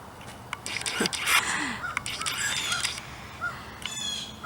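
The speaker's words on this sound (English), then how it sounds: "You can hear the birds, always in the morning." Early-morning birds, with crow-like caws and scattered chirps over a quiet outdoor background; the calls come in short irregular bursts at moderate distance, with no clear speech.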